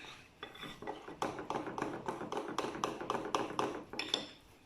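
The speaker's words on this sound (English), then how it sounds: "I'm just gonna mix that together." Crepe batter with extra milk whisked in a bowl, with a steady run of quick clinking utensil strokes against the dish throughout, close and fairly loud, with no talking.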